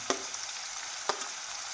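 Steady close sizzling of grated onions frying in hot oil, with a couple of brief stirring clicks.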